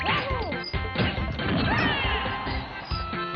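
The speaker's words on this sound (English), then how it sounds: "The only reason I got him on that last up smash is because he let go as I hit him." An up smash attack lands with a loud crash and sharp whack in Super Smash Bros. Brawl, played by an amiibo Pikachu, backed by dense game effects and music throughout.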